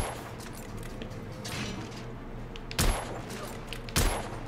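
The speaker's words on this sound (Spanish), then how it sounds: "Pero tío, que te estoy pegando tiros en la cabeza" Gunfire in the third-person shooter video game The Order: 1886, with two sharp loud shots standing out over a busy background of game sounds and smaller noises, with no speech.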